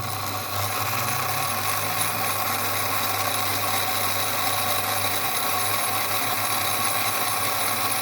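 Santa Fe O scale model locomotive, fitted with replacement wheels, running slowly on a test bench, giving a steady low motor hum with a constant whir and faint mechanical rattle throughout, close and even, with no talking.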